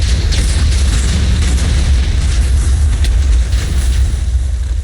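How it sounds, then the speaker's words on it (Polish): TNT blasts in Minecraft make a loud, continuous booming rumble that roars steadily with no pause, as if several explosions are going off back to back close by. "Dobra, tam wybuchły."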